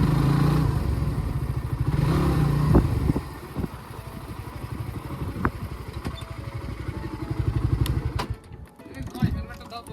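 A motorcycle engine rumbles along with wind noise and occasional clattering thumps, while a person talks over the ride.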